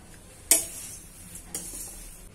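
Flattened rice being stirred in an iron wok, with two sharp metallic scrapes of a spatula against the pan and a quiet rustle between them.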